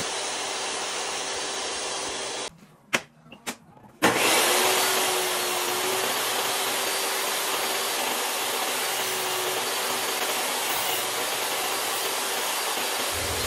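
A table saw takes small passes through walnut or cherry stock. Its loud, steady broadband roar and hum run throughout, broken by a short dropout with a few knocks, then resume without talk.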